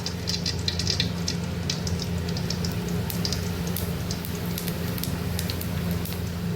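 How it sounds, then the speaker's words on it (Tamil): Fennel seeds sizzling in hot oil while cooking goat intestine fry, a dense steady crackle with scattered sharp pops, close and continuous throughout, no voice. "எண்ணெய் நல்லா காஞ்சிடுச்சு இப்போ இதில் கொஞ்சோண்டு சோம்பு சோம்பு ஆட் பண்ணிக்கோங்க"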